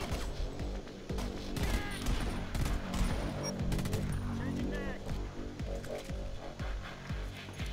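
Rifle fire in the video game Homefront: The Revolution comes as rapid bursts of sharp shots in an irregular rhythm, with clatter and impacts mixed in, fairly quiet overall, and a voice talks over the shooting.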